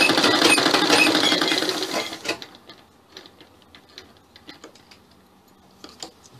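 A sewing machine stitching the Chinese-style collar of a sherwani runs loudly and continuously for about two seconds, then stops, followed by scattered light clicks and taps.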